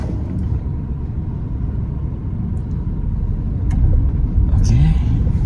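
A car moves off during a beginner's manual driving lesson, its engine a low steady rumble that swells slightly as it pulls away, with a voice speaking over it.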